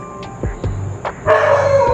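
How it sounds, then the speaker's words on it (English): Pet dogs bark in short, loud, close bursts, several sharp yaps in quick succession followed by a longer, louder outburst. "Why are my dogs shouting? Why are they barking?"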